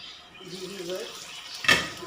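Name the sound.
covering pan of qeema with lid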